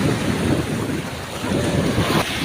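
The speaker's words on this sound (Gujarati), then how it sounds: "લોઠું બહુ આવે છે દરિયો ભરાય એવું લાગે છે" Big sea waves roll in steadily, a loud, continuous broadband roar of surf mixed with wind buffeting the microphone, with no talking.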